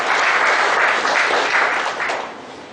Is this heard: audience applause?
yes